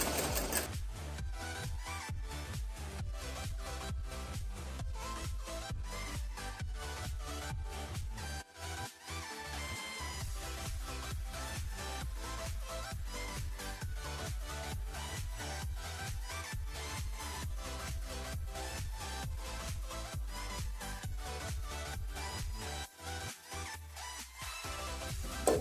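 A sewing machine stitches the lining of a blouse in a fast, even mechanical clatter that runs close and steady, broken by two brief pauses partway through, with no voices.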